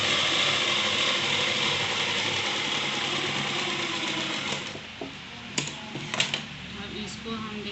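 A sewing machine runs steadily while stitching the folded strip of a kurta collar, a continuous close whirring that falters near the end into a few short bursts and clicks.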